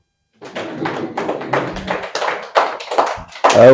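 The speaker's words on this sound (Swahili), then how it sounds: "Nipigie makofi." Applause from an audience at a Swahili-language political rally for Chama cha Mapinduzi, made up of uneven claps and thuds that start after a brief silence and keep going for several seconds before rising louder near the end.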